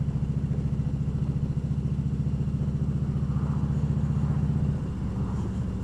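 A Harley-Davidson Road King Classic's V-twin engine idling close by, a deep, loping rumble with steady uneven pulses that eases slightly near the end.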